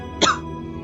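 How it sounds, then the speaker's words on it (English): A single short cough, sharp and close, over a quiet background hum. "Excuse the little coughing fit there"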